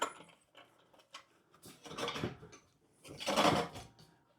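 A Fiskars reel mower's blade reel spinning freely by hand after its bed-knife bolts are backed off, giving soft mechanical whirring and light ticking in uneven swells, close and fairly quiet.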